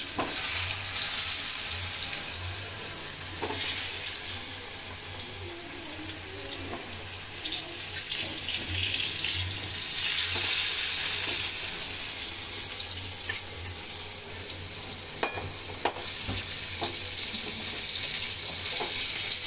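Eggplant pieces frying one by one in very hot oil for a fried bharta, a dense, continuous sizzle heard up close with scattered pops and occasional utensil clicks, no voices.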